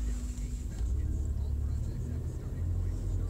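A rust-free Subaru Impreza Outback Sport, a cheap older car, pulls away with a steady, close, low engine rumble that swells slightly as it moves off.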